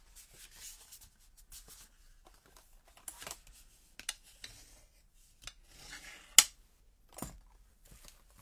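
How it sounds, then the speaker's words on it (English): A white paper card panel is cut for card making, with soft rustling, scattered faint snips and scrapes and one sharp click, close and quiet with pauses between. "Let me just cut a white panel."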